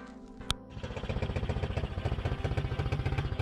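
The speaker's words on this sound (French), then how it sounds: "le quad a bien démarré, il tourne très fort, hein, pour un 110 cm3 ça marche vraiment très fort" A Chinese Typhon 110cc kids' quad bike engine catches after a sharp click and settles into a fast, loud, rhythmic putter, close and steady, with no voices.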